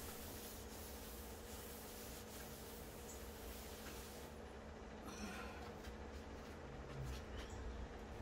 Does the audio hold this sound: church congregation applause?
no